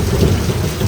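Thunder rumbles deep and loud through a heavy monsoon rainstorm. Rain pours steadily underneath throughout the brief moment.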